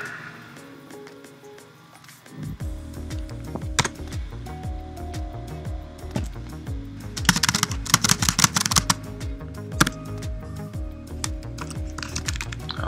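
Typing on a Mac computer keyboard, a quick irregular run of crisp key clicks after a quiet start, continuing for several seconds with bursts of faster strokes.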